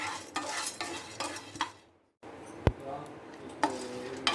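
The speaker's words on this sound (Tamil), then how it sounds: "நல்லா கிறிஸ்பியாக இருக்கிறதுக்காக நம்ம வறுக்க போகிறோம்." Roasted gram (pottukadalai) being dry-roasted and stirred in a pan, with scraping, rattling stir strokes and a light sizzle, a brief silent gap midway, then a sharp clink of utensil on pan.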